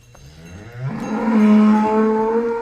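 A dairy cow on a farm lets out one long, close moo that swells upward in pitch and holds for about two seconds, with no other sounds around it.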